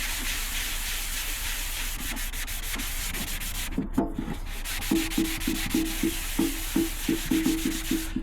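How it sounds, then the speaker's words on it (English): Hand sanding on the steel oil pan of a 1952 Chevy truck with sandpaper, a steady rasping scrub that breaks into quick rhythmic back-and-forth strokes midway, close and fairly loud, with no voices. "I'm gonna sand it and then clean it one more time."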